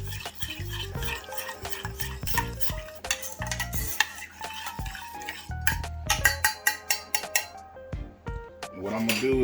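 A spoon stirs garlic lemon pepper honey buffalo wing sauce in a bowl, scraping and clinking in quick repeated strokes, with a few sharper taps against the rim near the end.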